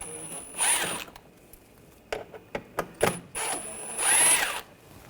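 A T20 socket on a ratchet removing inner fender liner screws on a 2014-2020 Nissan Rogue: bursts of rapid ratchet clicking with sharp metallic ticks and small knocks between them, close and clear.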